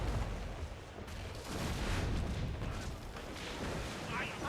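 Ship cannons firing in Assassin's Creed IV Black Flag: a dense, rumbling barrage of booms and blasts that swells and overlaps, with battle noise throughout.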